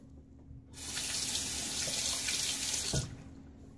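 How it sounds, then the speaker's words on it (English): Tap water runs steadily into a sink to rinse a safety razor after a shave, a broad continuous splash that starts abruptly, holds for about two seconds and cuts off with a faint clunk. "Many people say falling water on your razor when you want to clear it should be all it takes."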